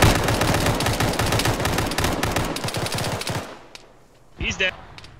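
Sustained automatic gunfire in the military shooter Arma during a ShackTac squad session rattles in rapid, dense bursts, then cuts off, leaving quiet with a brief voice.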